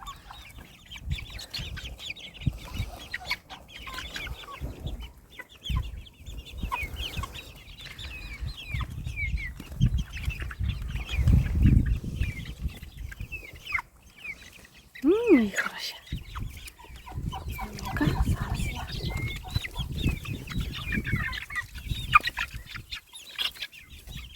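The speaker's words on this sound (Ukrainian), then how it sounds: "Дивіться, які в мене бентамочки є" Small bantam chickens cluck and chirp repeatedly at close range, with scattered rustling and a brief higher call in the middle; a voice talks intermittently underneath.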